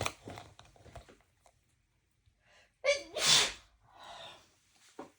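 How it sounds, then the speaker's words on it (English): A sharp gasping inhale followed by a loud, close allergy sneeze, then a trailing breathy exhale and a smaller sniff, with scattered soft rustling before it. "Oh, I have to sneeze, I'm sorry."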